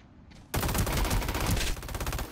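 Rapid automatic gunfire from the Ring of Elysium video game, a sudden loud burst that starts abruptly and keeps rattling densely for nearly two seconds, close and dominant with no talk over it.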